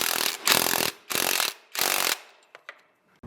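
An M13 socket wrench tightening the swing arm fork bolt on a motorcycle: three bursts of rapid ratcheting clicks, close and fairly loud, separated by short pauses, followed by a few isolated taps.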